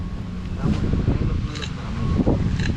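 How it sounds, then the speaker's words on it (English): Gusty wind buffets the microphone outdoors while a stamped concrete patio is being brushed with release powder, a steady loud rush with surges throughout. "The wind is not in my favor."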